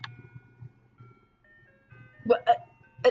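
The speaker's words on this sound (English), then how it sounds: "it's a weird, creepy ice cream truck" A tinkly ice cream truck jingle plays softly in the game Ghost Whisperer: Perceptions of the Dead at night, with a voice talking over it and a low hum underneath.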